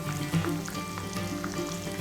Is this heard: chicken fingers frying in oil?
yes